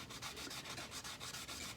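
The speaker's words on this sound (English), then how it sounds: "then it's time to sit there with the fine detail sanding" A 320 grit pad rubs back and forth over guitar frets in quick, even strokes, a soft close scratching with a regular rhythm and no talking.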